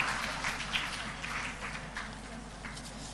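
Audience applause at an international health conference, a faint, distant, steady patter of clapping over a low background hum.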